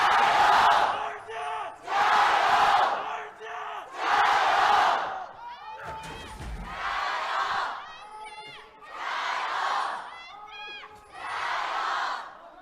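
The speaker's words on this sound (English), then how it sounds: "Rowdy crowd, because this being the last game, this being in RNG's home arena, fans want a conclusion" A rowdy crowd at an esports arena roars and chants in repeated swelling bursts during an LPL League of Legends match between RNG and IG, with a commentator's voice heard between the waves of cheering.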